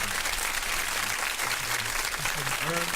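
Audience applause welcoming a guest onto a talk show, steady broadband clapping throughout the clip, with a voice faintly heard under it near the end.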